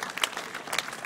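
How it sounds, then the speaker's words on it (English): A gathering at a college radio station's fiftieth anniversary reunion claps together, a soft, fairly distant wash of audience applause that stays even and brief with no voices above it. "So let's applaud them for trying to maintain"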